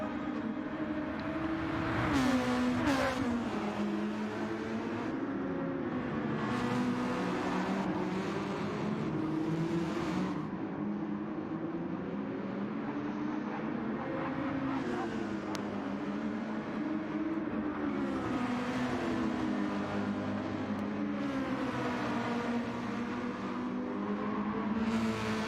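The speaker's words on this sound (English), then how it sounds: "Purden runs really wide through that last corner" Formula 3 race cars at the San Marino Grand Prix scream past in a five-lap race, high engine notes rising and falling through gear changes as several cars run close together, loud and continuous.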